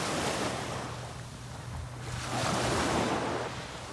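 Ocean waves washing onto a beach where people are swimming, a continuous broadband rush that swells and recedes, with wind buffeting the microphone and no voices.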